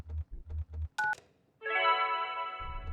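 A telephone keypad tone from the video game Kentucky Route Zero: a short, bright dual-tone beep. After a brief pause comes a longer, steady multi-tone electronic sound, with low soft thumps before and after.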